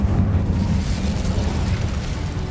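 An Incendio fire spell cast in the video game Hogwarts Legacy, a loud, continuous roaring whoosh of flame with deep rumbling body, sustained and steady for a couple of seconds with no talking.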